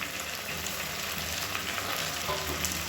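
Onions frying in a pan with a handful of mint and coriander give a steady, close sizzle with soft stirring scrapes, with no talk over it.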